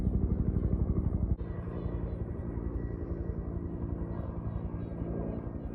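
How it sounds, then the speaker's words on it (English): Firefighting helicopters' rotors thump steadily overhead, a continuous loud chopping drone with a low rumble that shifts slightly partway through. "you sure can hear all the firefighting helicopters"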